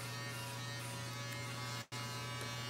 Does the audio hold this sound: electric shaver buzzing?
yes